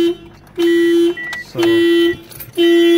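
A car's alarm blares in loud, steady repeated tones, each lasting about half a second with short gaps, near and dominant, while someone briefly speaks.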